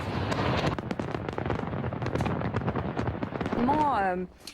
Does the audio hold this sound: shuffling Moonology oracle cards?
no